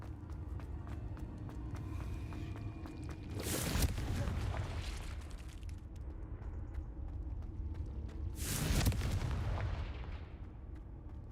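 Explosive Confringo spell blasts in the video game Hogwarts Legacy: two heavy, booming detonations several seconds apart, each with a rumbling tail, over a steady low background hum.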